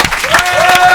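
Studio audience at an NRJ Music Awards 2017 radio broadcast bursts into a short, dense round of applause and cheering, close and loud throughout.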